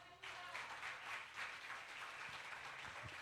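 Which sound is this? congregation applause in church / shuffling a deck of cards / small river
congregation applause in church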